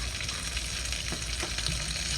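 Coconut cream frying in a pan as it renders into coconut oil, a steady close hiss and crackle of sizzling fat with small pops, constant and loud for the short stretch.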